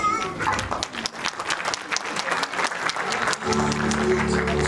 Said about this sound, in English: So please, keep your hands clapping.